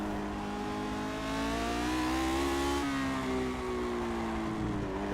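A Lotus 49 race car engine in the Project Cars racing game, a loud sustained howl whose pitch climbs steadily, dips sharply as the clutch is used to slow, then holds steady at high revs.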